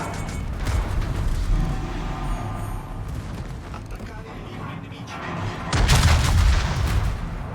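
Main guns of the Bismarck firing a broadside volley in World of Warships, heavy booming blasts rolling under constant game noise, with a louder burst of concussive firing near the end while someone talks over it.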